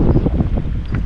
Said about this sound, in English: Bloody hell, that's windy.